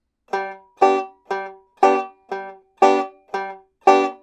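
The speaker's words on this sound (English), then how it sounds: "The most common version of vamping looks and sounds like this." Eight crisp, muted banjo chord chops in a steady, even rhythm, each cut off short with silence between, played alone.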